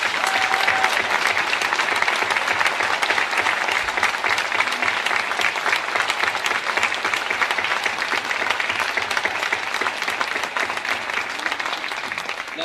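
Sustained applause from a large crowd at a school academic awards ceremony, dense and loud, fading slightly toward the end.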